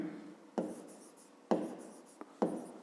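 A pen or pencil writes out a math calculation on paper in three distinct bursts of scratchy strokes, each starting with a sharp tap and fading, close and quiet.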